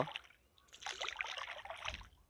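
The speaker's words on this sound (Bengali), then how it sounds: "জলের বুক চেড়ে চলছে আমাদের নৌকা ডিঙি নৌকা" A small dinghy glides through open water on a wetland lake with gentle sloshing and trickling, soft and close, rising in the middle then easing off.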